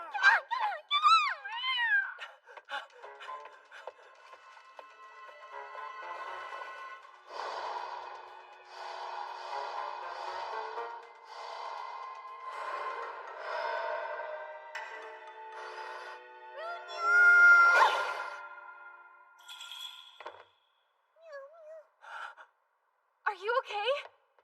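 An animated character makes cat-like meowing and sighing sounds, breathy and strained, with a voice imitating a cat amid other speech, close and fairly quiet.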